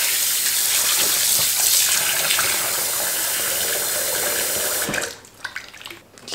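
Running water from a tap pours steadily into a container as cleaned mogodu tripe is rinsed, a loud continuous gush that stops abruptly near the end, followed by faint drips and handling noises.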